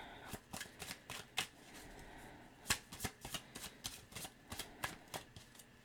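Tarot cards shuffled and drawn by hand, a quiet run of crisp riffling snaps and flicks at an uneven pace, close and clear with no talk.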